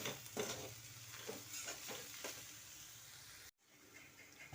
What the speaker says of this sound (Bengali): এবার আমি এটাকে ভালো করে কষতে থাকবো।